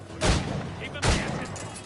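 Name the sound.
gunfire in a video game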